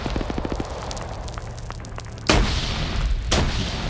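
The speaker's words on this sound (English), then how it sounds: "Nade goes out." A grenade goes off in a PvP shooter game: a sharp, loud boom that lets a rumbling tail ring out, then a second, weaker blast about a second later, with no talk over them.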